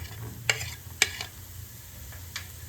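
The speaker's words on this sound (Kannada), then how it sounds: "ಆನಿಯನ್ ಸ್ವಲ್ಪ ಬ್ರೌನಿಶ್ ಆಗೋವರೆಗೂ ಬೇಯಿಸ್ಕೊಳ್ಳಿ" Chopped onion cooking in a pan for white sauce pasta, a quiet sizzle with two sharp spatula clinks close together and a lighter tap later, no voices.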